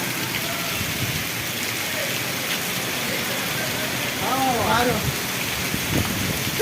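Steady unseasonal rain with hail hisses continuously, with a brief warbling voice-like sound partway through; hail is not distinctly audible.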